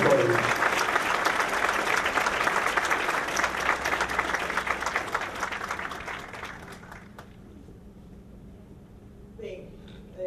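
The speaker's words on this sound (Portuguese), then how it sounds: "Un aplauso para todos ellos" Audience applause at the closing ceremony of a forum, a sustained round of clapping that gradually fades away over several seconds, leaving a quiet room with a faint voice afterward.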